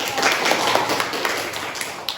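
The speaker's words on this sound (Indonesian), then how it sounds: "Terima kasih, tepuk tangan." An audience claps after a school group presentation, a dense burst of applause from many hands that stays fairly loud and even through the short stretch.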